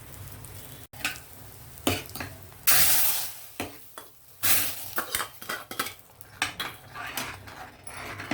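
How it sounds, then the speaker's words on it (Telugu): Tempering frying and being stirred in a pan, with loud scraping clanks of a metal spoon against the pan over a sizzling background and bursts of sizzle between strokes. "అంత తాలింపు చక్కగా వేగింది పప్పులకి షిఫ్ట్ చేద్దాం"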